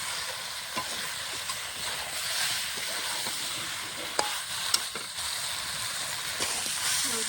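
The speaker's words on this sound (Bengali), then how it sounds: "আর কিছুক্ষণ কষিয়ে নেব।" Chicken pieces frying in a pan for Bengali chicken kosha, a soft continuous sizzle with occasional stirring scrapes and light clicks, close and fairly quiet, no talking.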